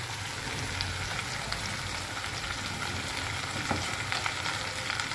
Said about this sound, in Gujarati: એકદમ ધીમા તાપથી આપણે આ ભીંડાને પકવવાનો છે